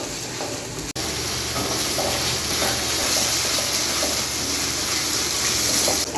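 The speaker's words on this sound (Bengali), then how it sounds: "আমার মশলা কষানো কিন্তু হয়ে গেছে, এই যে তেল ভেসে উঠেছে।" Masala spices fry in oil for a beef kofta curry, giving a steady, close sizzle that runs without a break after a brief sharp knock near the start.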